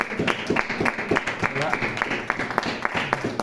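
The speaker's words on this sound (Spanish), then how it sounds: "Dar un aplauso al Señor." Congregation clapping for the Lord during a church service, a fairly close patter of hands, some falling into a loose rhythm, with voices mixed in over the clapping.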